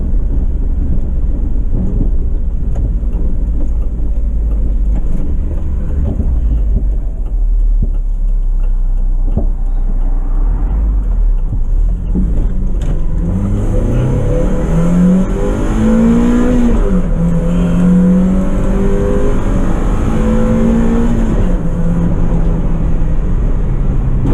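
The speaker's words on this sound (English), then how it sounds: "You hear a lot more of the induction noise." A Mazda MX-5 engine drones steadily inside a cabin stripped of its interior, then the intake note swells and rises as it accelerates, loud and close, with shifting pitch through the revs.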